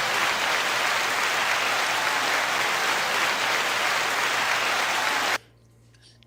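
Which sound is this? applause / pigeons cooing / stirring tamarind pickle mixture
applause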